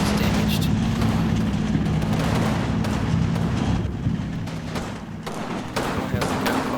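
Continuous wartime battle noise in the Combat Mission Normandy game, dense rumbling thuds and scattered gunshots with distant artillery booms, loud and unbroken throughout with no clear pauses.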